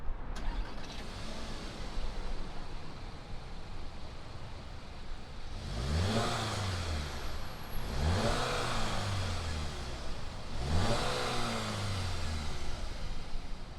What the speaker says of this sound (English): fire it up, and see what this GLI sounds like